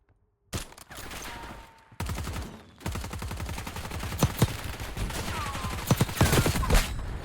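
Gunfire in a shooter video game with a Kar sniper loadout: sharp repeated shots and rapid bursts, close and loud, with no talk over them.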